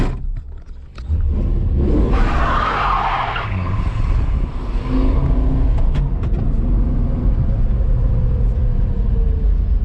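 A 1966 Dodge Coronet with a 225 Slant 6 engine, new clutch and three-speed column shift pulls away and drives, a loud continuous engine rumble with a tire skid and squeal early on.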